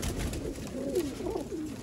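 Soft, low cooing of pigeons kept for sale, a steady murmur of calls over a constant background hiss.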